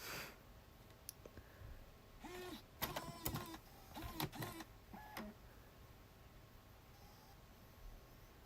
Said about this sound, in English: It just sucked in my disc.